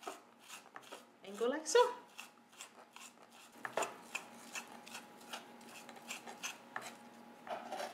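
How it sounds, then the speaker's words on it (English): A knife blade pressing and scraping garlic with salt on a cutting board into paste, repeated short rasping strokes and taps in an uneven rhythm, close and soft, with a person talking briefly. "add a little bit of salt to create some friction, and then use your knife"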